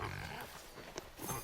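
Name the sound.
pigs in a zoo enclosure, from video game Planet Zoo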